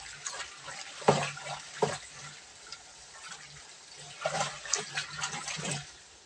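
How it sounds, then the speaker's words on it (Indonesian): Liquid amino acid organic fertilizer for durian trees, made with rice-washing water, being stirred by hand in a container, giving intermittent sloshing and splashing water sounds in bursts, close and fairly quiet, with no talking. "Kita aduk seperti ini supaya merata."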